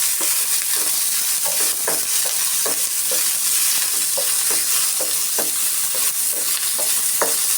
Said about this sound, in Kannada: ಪುದೀನನ್ನು ಚೆನ್ನಾಗಿ ಫ್ರೈ ಮಾಡ್ಕೊಳ್ಳೋಣ.